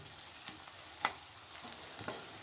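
Green chillies fry in a tempering of hot oil for an Andhra-style ivy gourd and sesame fry, a quiet steady sizzle broken by a few sharp pops and spatters.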